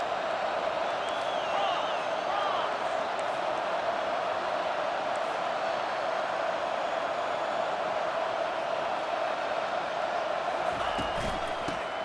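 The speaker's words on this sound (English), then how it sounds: "And the crowd coming to life here, trying to help this defense down in the red zone." Football stadium crowd at a Texas State game roaring steadily as the defense holds in the red zone, a dense sustained wash of cheering and noise that stays loud and unbroken throughout, with faint whoops rising near the end.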